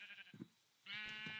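Two Minecraft sheep bleats sound one after the other, the first shorter and broken, the second a longer wavering cry, fairly quiet with no talking.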